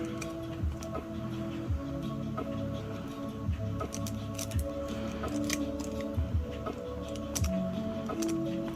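Scissors snipping through a makeup sponge during a craft test of foils and foil glue: sparse, soft clicking snips and light ticks at an irregular pace, close by and quiet over faint background noise.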